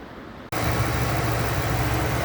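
A 1999 Ford F-250 V-10 pickup engine idles steadily after a brief gap, a continuous low, even rumble with no audible ticks or misses, close and loud, with no talking.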